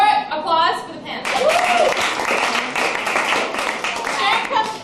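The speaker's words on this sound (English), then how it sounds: "Or applause for the pants." Banquet guests applaud at a 1997 annual dinner at Tutta Pasta in Brooklyn, a dense patter of clapping mixed with laughter and overlapping voices in a lively room.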